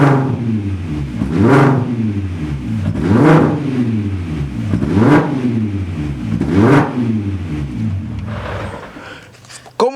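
A VW Caddy fitted with a VR6 engine revs through its newly finished exhaust, climbing and falling in about five loud, rising blips that repeat at a steady rhythm, close to the microphone with no talking over it.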